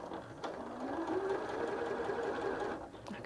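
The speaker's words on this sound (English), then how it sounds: "So we will just stitch there, just put it on a medium speed." A Janome 740DC sewing machine stitching at medium speed, giving a steady close mechanical whir with a faint rising motor tone for about three seconds, no talking over it.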